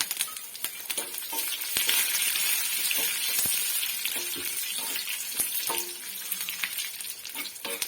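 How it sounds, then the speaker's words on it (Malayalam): Curry leaves fry in hot oil for a mango curry tempering, a loud, steady sizzle dotted with dense crackles and sharp pops that runs throughout. "കരിയാപ്പില ഇടാം"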